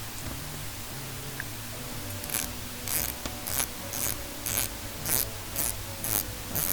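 A Shimano Stradic FJ 3000 spinning reel clicks while its handle is turned: a steady run of about ten sharp, close ticks, evenly spaced roughly every half second, over a faint background hum with no talk.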